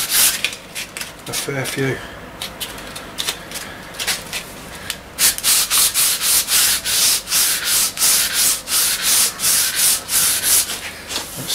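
Hand sanding on an old wooden snooker cue being stripped of layers of oil finish: irregular scraping strokes at first, then a loud, rhythmic series of close back-and-forth rubs, with a brief remark spoken early on.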